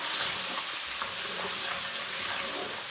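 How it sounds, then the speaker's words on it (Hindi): Washed semolina roasting in a hot pan for egg halwa, a steady soft sizzle with faint scraping running evenly throughout, close and alone without any talk. "सौंगी को भी 1 मिनट तक भून लेंगे।"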